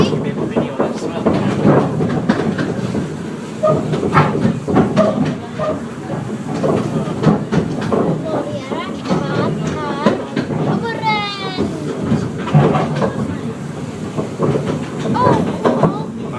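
A 76-year-old locomotive runs along the Cavan & Leitrim Railway with a steady rumbling roll and rhythmic rail clatter, while people talk close by over the constant train noise and a brief whistle-like squeal is heard midway.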